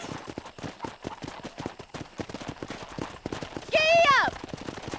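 Rapid galloping hooves of a horse in Red Dead Redemption pound in a fast, close rhythm, with a loud whistle-like cry near the end and a voice talking over it.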